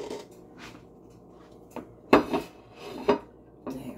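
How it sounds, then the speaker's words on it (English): Steak knife picked up from among cutlery in a home kitchen, giving a few sharp metallic clinks and rattles, close and moderately loud, with quiet rustling between the strikes. "So I'm going to take a steak knife."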